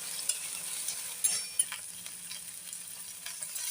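Peas and onion being sautéed in a pan give a faint, steady sizzle with a few light scrapes and clinks of a spoon, heard close with no talk.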